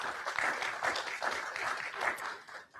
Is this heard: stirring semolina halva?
no